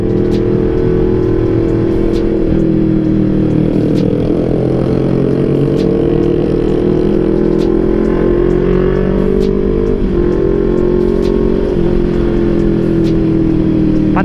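Close, continuous engine drone from a Honda CBR 250 RR motorcycle riding at night, the pitch gently rising and falling with throttle changes over a long, unbroken stretch with no voices.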